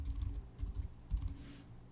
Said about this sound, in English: Here we'll enter email address and password.